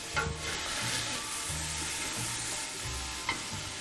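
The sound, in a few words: stirring soup in a pot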